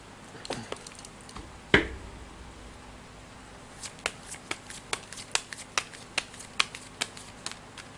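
Fortune-telling cards are shuffled close by, a quick riffle followed by a sharp slap, then a steady run of crisp card snaps as they are dealt or cut, quiet and without talk.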